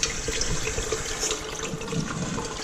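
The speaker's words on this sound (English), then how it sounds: "And you let all that water get out." Water running and draining from freshly washed sunflower seeds in a kitchen sink, a steady close splashing trickle with no talk.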